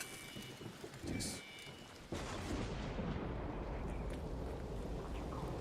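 Lightning and thunder in a video game: a sharp crack lands midway and opens into a sustained rumbling roar with rain-like hiss, while a quieter stretch of storm noise comes before it.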